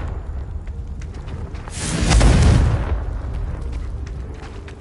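A Confringo spell in a Hogwarts video game sets off a single explosion, a deep rumbling boom that swells over about a second and then fades, heard over steady background ambience.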